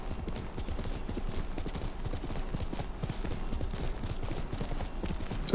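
Horse hooves clip-clop steadily at a riding pace in the Ghost of Tsushima video game, a dense continuous rhythm of close, fairly loud steps with no talk over them.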